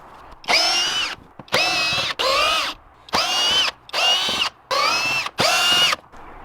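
Power screwdriver whirring out T25 screws from the air filter housing of a Mk4 VW Caddy, six loud separate bursts of about half a second each, separated by short pauses.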